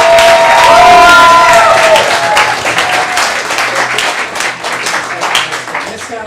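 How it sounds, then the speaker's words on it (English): Loud audience applause with cheering at an improv comedy show, dense clapping swelling early and then thinning slightly, with a few voices and whoops mixed into the crowd. "Give them a round of applause."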